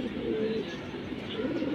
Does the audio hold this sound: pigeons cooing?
yes